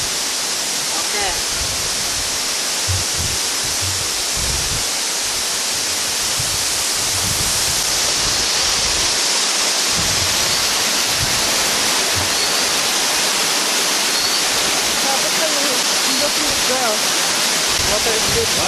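Sapang Dalaga Waterfalls rushes in a loud, steady roar of falling water that fills the whole scene, with occasional voices under the noise.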